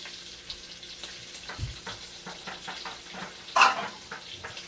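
Bacon and garlic frying together in a pan for linguine carbonara, a soft steady sizzle with scattered stirring scrapes and a louder clatter of utensil against pan near the end.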